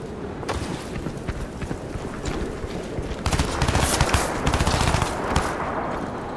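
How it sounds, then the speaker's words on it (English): Rapid automatic gunfire in the video game Crysis 2, bursts of dense crackling shots continuing throughout and growing louder and denser in the second half. "Are you shooting at me?"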